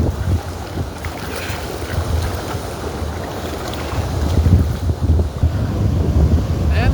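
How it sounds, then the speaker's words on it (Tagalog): Strong wind roars and buffets the microphone continuously during net fishing, with a low rumble of water or a boat underneath, growing louder toward the end. "Lakas ng hangin pa naman. Parang bumabagyo."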